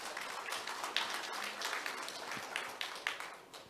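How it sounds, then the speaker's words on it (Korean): An audience at a university forum on online education applauds to welcome the discussion panelists, a faint, scattered patter of clapping with a few sharper claps. "여러분 큰 박수로 환영해 주십시오."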